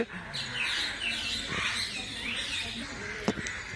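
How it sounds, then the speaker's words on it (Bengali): Parrots and pigeons call from the trees at a temple grove in Vrindavan: a steady wash of high, overlapping chirps and squawks with a few sharper calls near the end. "এখানে প্রচুর টিয়া পাখি রয়েছে পায়রা রয়েছে"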